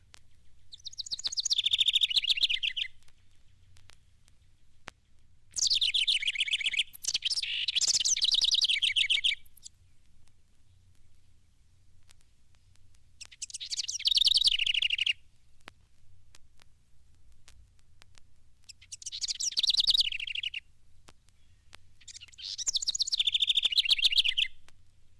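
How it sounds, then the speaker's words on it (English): A house wren sings in five separate bursts of high, rapid, bubbling trills, each lasting a couple of seconds and divided by quiet pauses, heard clearly with a faint low hum beneath. "The most familiar species is the house wren"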